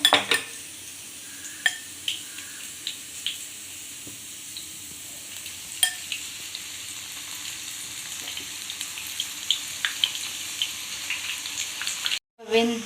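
Veg chicken pieces frying in hot oil give a steady, close crackling sizzle with scattered sharp pops and faint clinks of utensils against the pan, continuing for several seconds before a brief cutout near the end.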